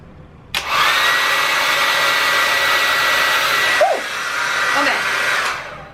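A hair dryer fitted with a diffuser attachment switches on with a sudden loud, close blowing roar, wavers briefly near the end, then cuts off before silence returns.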